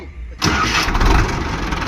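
A Kartar 5936 tractor engine cranks and catches after a short quiet moment, then settles into a loud, rough diesel idle close by.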